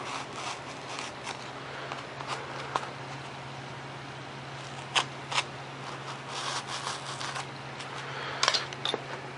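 A blade cutting foam board ailerons for a Super Cub model plane, heard as faint, intermittent snips and scrapes over a steady low electrical hum.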